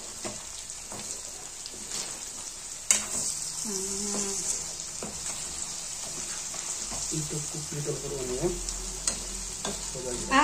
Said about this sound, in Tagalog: Iluluto daw ng konti yung onion